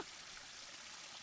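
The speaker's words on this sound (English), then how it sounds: "Cascading waterfall." A cascading waterfall at Marconi Conference Center State Historic Park pours steadily, a soft broadband roar with no voices.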